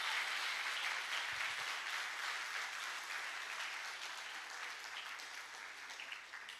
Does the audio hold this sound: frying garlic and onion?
no